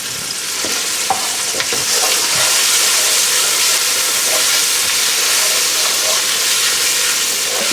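A vodka sauce bubbles and sizzles as it cooks down in a hot pan, a loud steady hiss with faint stirring clicks and no talking.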